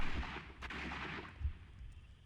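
Gunshot in the Sherlock Holmes: Crimes and Punishments video game, two faint, low booming reports about a second apart over a quiet background.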